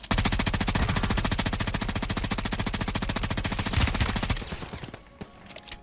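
Sustained automatic gunfire in the Warzone 3 video game, with a Bruen rifle firing a rapid, steady burst of loud, close shots for several seconds, then trailing off into fainter echoes and scattered distant shots.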